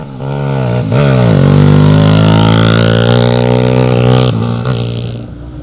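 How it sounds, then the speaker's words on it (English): A small pit bike motorcycle races up a hillclimb course, its engine buzzing loud and close with a rising high-pitched rev, brief gear-change dips, then fading slightly at the end. "next up it's Keir McKenna on his little pit bike"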